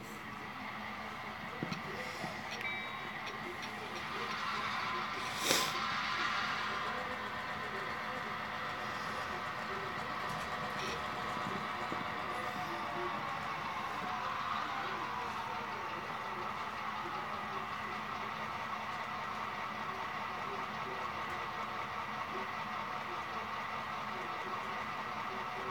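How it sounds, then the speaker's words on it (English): A train creeps forward during switching on the line, a steady rumbling drone with faint clicks and squeals of wheels and couplings, mostly even in loudness with a sharper clank early on. "So I'm going to drag the train up a little bit."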